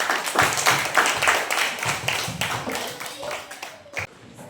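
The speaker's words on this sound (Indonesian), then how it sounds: "silakan tepuk tangan yang meriah" Fourth-grade classroom applause after a student group presentation, many small hands clapping in a brisk patter that thins and fades toward the end, with a voice speaking over it.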